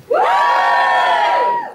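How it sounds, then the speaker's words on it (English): Audience at a poetry gig erupts in a loud, sustained cheer and whoop lasting well over a second, rising sharply and fading at the end, with no talk over it. "give us a cheer if you like poetry"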